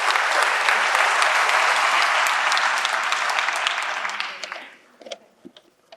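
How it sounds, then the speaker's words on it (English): Audience at a University of South Africa event applauding, a loud dense roar of clapping held steady for several seconds before tapering off into a few scattered final claps. "Can I request a round of applause for yourselves?"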